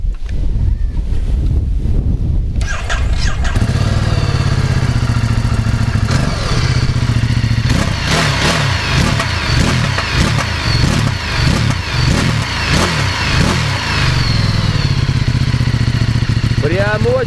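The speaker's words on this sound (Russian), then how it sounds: "Дукати прям так хлестко бьет, то есть он такой прям выхлоп офигенный." A Ducati Multistrada 1260 Enduro motorcycle starts after a brief quiet, then idles and is revved repeatedly with sharp, punchy exhaust bursts in a regular rhythm, loud and close with wind buffeting the microphone.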